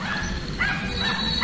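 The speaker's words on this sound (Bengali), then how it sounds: "ব্যাকগ্রাউন্ডে একটা কুত্তার আওয়াজ আসছে" A dog barks and yips in the background, a continuous, fairly close run of whiny, tonal calls over steady ambient noise, with no talk.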